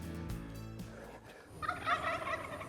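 A wild turkey gobbles far off in Northeast Oregon hunting country, with a rapid rattling call rising and fading over about a second amid quiet outdoor ambience.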